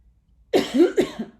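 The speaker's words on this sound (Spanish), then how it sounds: "Toso porque habla mucho" A short burst of coughing, two or three dry coughs close to the microphone, then quiet.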